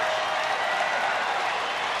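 A stadium crowd cheering at a Texas Rangers baseball game gives a steady, even roar of many distant voices and applause, with no break.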